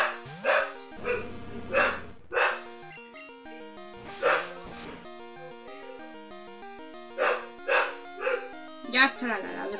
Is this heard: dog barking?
yes